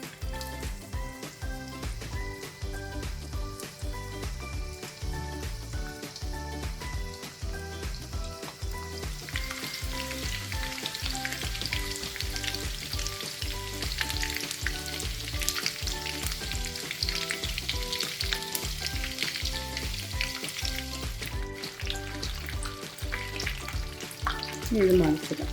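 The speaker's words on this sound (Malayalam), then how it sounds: "ഇനി ഓരോന്നിട്ട് നമുക്ക് ഫ്രൈ ചെയ്തെടുക്കാം." Chicken lollipops deep-fry in hot oil, a continuous loud bubbling sizzle that grows fuller as more pieces go in, steady for the whole stretch without talk.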